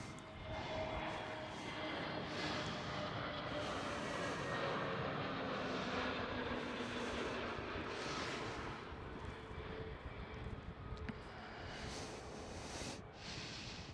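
An Air France airliner touches down gently on the runway at Amsterdam Schiphol, a steady, loud broadband roar of jet engines sustained throughout with faint tonal whine, no talking.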